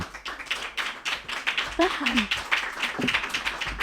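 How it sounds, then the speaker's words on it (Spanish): Small audience clapping for an author at a book presentation, a light, thin patter of individual claps with voices talking over it. "Un aplauso, por favor, para ella."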